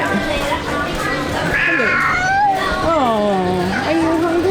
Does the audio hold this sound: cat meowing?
yes